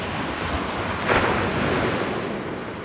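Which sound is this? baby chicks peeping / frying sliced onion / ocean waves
ocean waves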